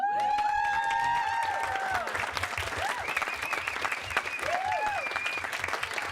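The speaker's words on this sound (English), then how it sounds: "How about a round of applause for Jack and Katie?" A crowd applauds steadily, dense clapping with some cheers and whoops over it, sustained and fairly loud throughout.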